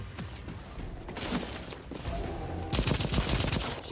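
Gunfire in the Second Extinction video game, a run of quick shots that grows denser and louder toward the end, with brief talk over parts of it.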